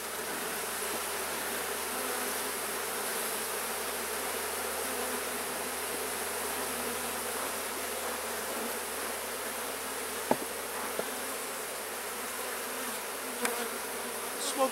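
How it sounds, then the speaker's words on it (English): Honeybees buzz in a dense, steady drone, close and continuous, with a couple of faint knocks near the end. "Let's get some of these bees down a little ways."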